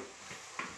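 Fried tomato is stirred in a paella pan for a vegetable and chicken paella, a short scrape of a utensil with a quiet sizzle beneath, close and brief with no talking.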